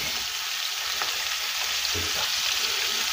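Vermicelli dropped into a pot of water with salt and oil gives a steady hiss and bubbling simmer close by, with a couple of faint clinks and no talking.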